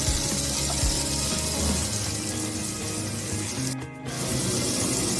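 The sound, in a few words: frying garlic, tomato, onion and green chili in oil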